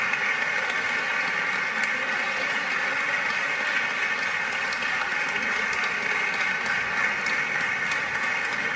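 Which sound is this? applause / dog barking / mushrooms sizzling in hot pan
applause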